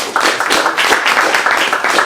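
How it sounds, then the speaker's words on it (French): Rhythmic group clapping for a cocktail competition finalist, several close, fairly loud claps in a steady pulsing pattern over two seconds. "Eh bien, on peut applaudir une nouvelle fois Édouard Riscos."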